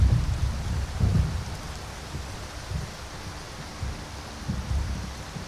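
Rain patters constantly in Skyrim VR while low thunder rolls rumble beneath it in repeated swells, the downpour steady and fairly quiet, with no voices present.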